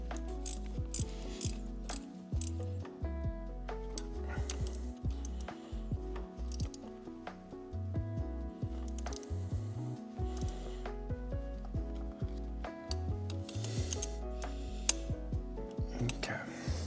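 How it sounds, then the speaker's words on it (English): A hand ratchet tightening turbo studs on a VW GLI engine, heard up close as repeated bursts of rapid clicking pawl strokes with short pauses between, and a few soft metallic knocks. "turbo studs, those gotta be tightened down a bit more still"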